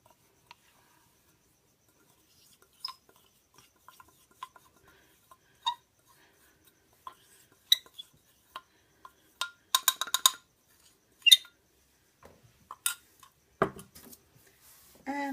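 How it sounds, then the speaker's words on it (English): A utensil stirs Natrasorb soaked with fragrance oil into a milk bath powder mixture, giving sparse soft scrapes and light clinks that grow busier and louder toward the end, with no talking. "we're just going to stir all of that in"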